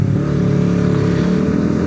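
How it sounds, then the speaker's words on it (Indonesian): Honda CBR250RR motorcycle fitted with an aftermarket exhaust, engine revving at a steady, loud, close drone with a smooth tone and no speech. "kalau dari segi suara ini termasuk ke knalpot yang suaranya adem"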